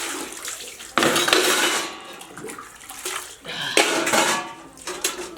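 Dishes are being washed, with pots and cutlery clanking in bursts over running water, close by.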